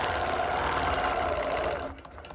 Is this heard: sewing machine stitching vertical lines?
yes